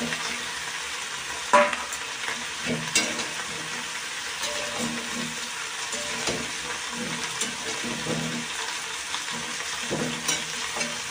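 Fish pieces fry in hot oil in a pan with chopped coriander, giving a steady close sizzle with stirring and a sharp spatter burst near the start, with no talking.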